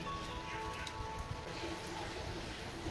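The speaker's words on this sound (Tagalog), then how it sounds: "Kailangan mag-sombrero tayo kasi walang pigil guys yung ulan. Grabe ang kanina pa to ulan ng ulan." Steady rain falls outdoors in Nepal, a dense, continuous hiss of drops on surfaces with no pauses, holding at an even moderate level throughout.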